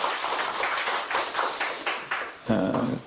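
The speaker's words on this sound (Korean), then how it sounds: "박수 크게 보내주세요" Audience at a Democratic Party membership welcome ceremony claps for a new member, loud close rhythmic clapping with sharp bursts, ending in a louder flurry.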